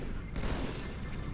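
Plasma cannon fire in the video game Halo 2 rattles as a dense, continuous burst of rapid shots, loud and close with heavy low-end rumble.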